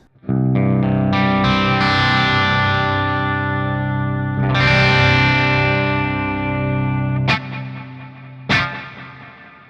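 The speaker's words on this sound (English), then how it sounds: "So now on to the reverb and delay. Again, this is the default setting." Electric guitar through the Archetype: Rabea X plugin's reverb and delay at default settings, distorted chords ringing out in long, echoing decays, followed by two short, sharp stabs near the end.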